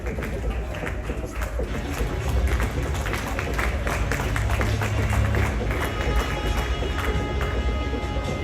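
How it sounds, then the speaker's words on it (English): An audience at the official launch of a royal awards event in Ghana gives a sustained round of applause to welcome a speaker, with steady crowd clapping throughout. "With a big round of applause,"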